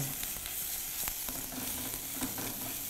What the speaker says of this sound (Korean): 대패 삼겹살 이렇게 볶는데